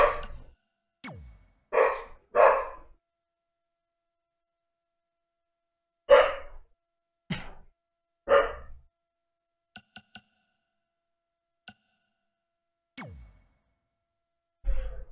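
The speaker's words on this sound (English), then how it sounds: "I swear it's impossible to record in this fucking house because of this dog." An indoor dog lets out a few scattered short barks and yips with whiny, sighing sounds between them, separated by long quiet gaps.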